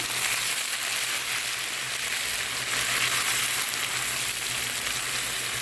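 Browned onion and chopped tomato fry together in a pan, a dense, even, close sizzle holding steady throughout with only faint hints of stirring and no voices.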